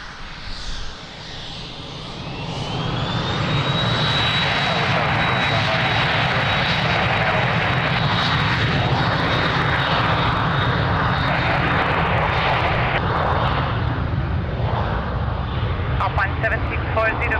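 An airliner takes off from runway 02 at Lisbon Airport, its jet engines spooling up into a rising whine and then a loud, steady roar that holds throughout, with radio voices talking over it.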